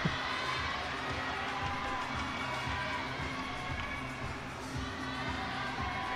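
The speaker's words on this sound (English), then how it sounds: "plenty of shouts from the Japanese crowd" A Japanese crowd at a climbing competition shouts and cheers in a steady, dense roar that holds throughout without a break.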